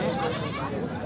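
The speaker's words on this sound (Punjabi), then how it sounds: "ਇਹ ਬੱਕਰੀਆਂ ਆ ਗਈ" Goats at a livestock market before Eid, bleating in a dense, continuous chorus close by, mixed with crowd chatter.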